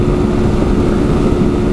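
A motorcycle engine revs hard in a steady, loud, droning roar that holds without a break, with no voices over it.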